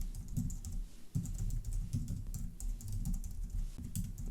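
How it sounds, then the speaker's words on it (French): Someone types an email address on a computer keyboard, producing a steady run of soft, close key clicks for several seconds over a low background hum, with no speech. "Donc je vais venir taper mon adresse."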